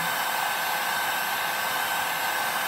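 Heat gun blowing hot air to lift Eternabond tape on an RV rubber roof, a loud, steady, close whirring blast with a constant high whine and no break or speech.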